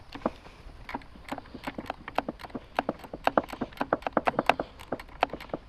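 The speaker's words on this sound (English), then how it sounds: "Gotta get this tightened down." A long threaded bolt on a car's brake master cylinder is tightened with a tool that gives a fast, steady series of sharp mechanical clicks, close by, quickening slightly as it goes, with no talking.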